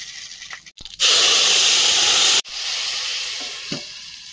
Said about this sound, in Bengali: দুটো শুকনো লঙ্কা হাফ করে ফোড়নে দিচ্ছি, হাফ চামচ গোটা জিরে, হাফ চামচ পরিমাণ রাঁধুনি